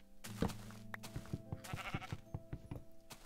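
A Minecraft sheep gives a short wavering bleat near the start, then soft thuds and scattered game sounds fill the rest of the brief moment.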